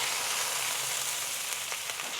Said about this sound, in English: In the frying part of this cabbage, it happens pretty quick